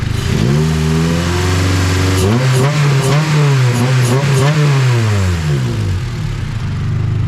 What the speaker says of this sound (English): That new exhaust sounds really good though.